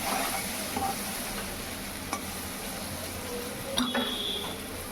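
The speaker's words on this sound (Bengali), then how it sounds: "টমেটোটাও অ্যাড করে দেবো টমেটোটা ভাজা ভাজা হবে" Chopped tomatoes fry with turmeric in a pan, a steady broadband sizzle running throughout, broken by a few sharp clinks and scrapes of a utensil stirring against the metal.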